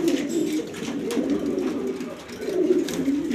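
Pigeons in a flock holding more hens than cocks coo continuously, a low rolling murmur that stays fairly loud and close throughout.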